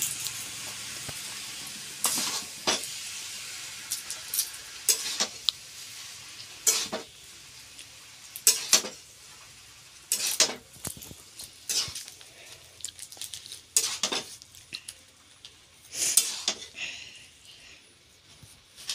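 Chowmein is stirred in a hot pan. A bright sizzle rises in repeated bursts with each toss, broken by clattering spatula scrapes against the metal, close up and uneven in rhythm.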